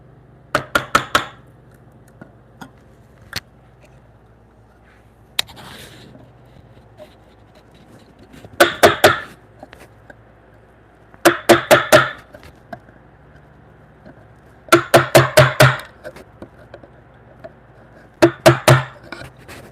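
A chisel cutting through mortises in timber for a timber-frame bunk bed, loud sharp mallet strikes in rapid clusters of four to six separated by quiet pauses, close up with no talking.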